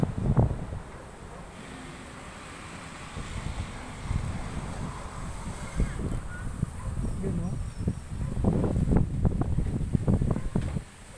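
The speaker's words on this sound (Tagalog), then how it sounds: "Yan, mahangin talaga" Strong wind buffets the microphone outdoors, a rough gusty roar with low thumps that grows louder toward the end, with faint talking underneath.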